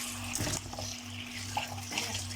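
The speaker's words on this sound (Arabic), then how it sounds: "باخده احطه بقى في حاجه بلاستيك كده اهو، وافتح عليه الميه برضه" Tap water runs into a plastic container holding a seasoned sea fish in a kitchen sink, making a steady, soft splashing stream with a low hum beneath and no talking.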